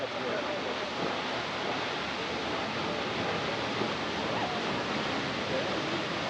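A steady, broadband roar of a waterfall with flying spray, heard close from a boat, continuous and loud with no breaks.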